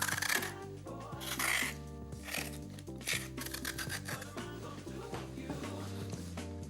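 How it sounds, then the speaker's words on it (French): Firm red bell peppers being peeled with a vegetable peeler give short rasping scrapes in repeated strokes, partly buried under louder background music. "À l'aide d'un couteau économe, épluchez les poivrons."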